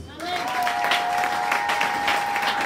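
A church congregation applauds at a prosperity sermon, with steady, dense clapping from many hands that fills the room. A sustained tone from an instrument or feedback rings underneath throughout.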